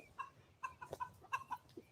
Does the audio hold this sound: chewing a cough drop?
no